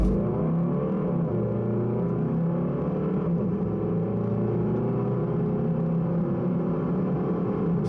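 A Volvo V40 or V60 Cross Country D4 with a 2-litre engine accelerates, heard as a steady, full engine drone with a smooth whir that holds evenly throughout, with no voices.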